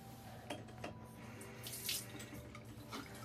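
Water runs from a tap in a steady, soft stream for a few seconds, with small splashes and brief surges as fingers are dampened under it, quiet and close.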